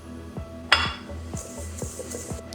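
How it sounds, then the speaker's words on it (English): A utensil clinks and scrapes against a bowl in a steady rhythm while cake batter for basbousa is mixed, with one sharper knock near the start, fairly quiet and without talk. "Now I will mix the ingredients. I'm gonna give this a little mix like that."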